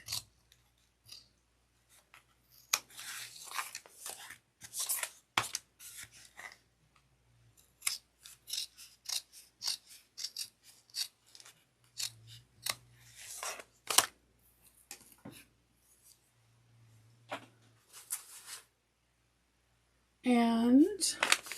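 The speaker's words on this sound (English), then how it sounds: "Then I'm going to trim off the excess by flipping it to the back." Scissors trimming excess clear vinyl along the sides of a tote bag, many quick crisp snips in irregular bursts with pauses, close and distinct, ending with a brief rustle of handling.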